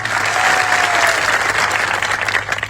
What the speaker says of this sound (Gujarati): જોરદાર તાળીઓ પાડવી